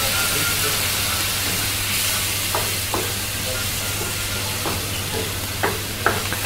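Fish simmering in a pan of hot water on the Greek island of Thasos, a steady bubbling hiss with a low hum underneath and occasional light clinks of a utensil.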